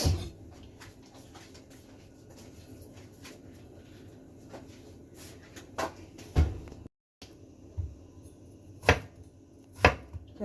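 A knife cuts local eggplant on a board for adobong halo-halo, with irregular close thuds and chops scattered over a low kitchen background, one brief dropout in the middle and no talking.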